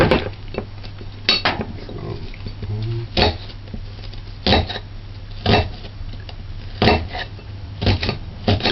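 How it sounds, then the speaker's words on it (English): Knife dicing onion on a cutting board while cooking callaloo seasoned rice: a close, irregular run of sharp chops and clacks against the board, spaced unevenly, with no voices. "Dice the onion."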